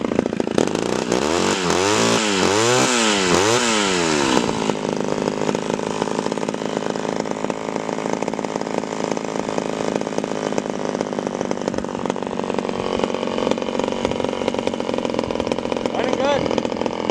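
Chainsaw with a dull chain, freshly tuned, cutting firewood: a loud, steady engine roar that revs and wavers early on, then holds at a high running drone, with a voice talking over it.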